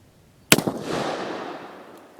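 One loud gunshot from an Uberti 1847 Walker black-powder revolver cracks sharply, its boom echoing and decaying over the following second and a half.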